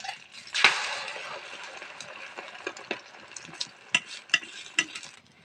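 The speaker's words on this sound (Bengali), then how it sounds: "এবার এই পিঠটা আরেকবার উল্টিয়ে দিই দেখো একটু ভেজে নেবো" Egg roll flatbread frying in a pan as it gets flipped, a soft sizzle under a scattering of sharp clinks and scrapes from a utensil, close by.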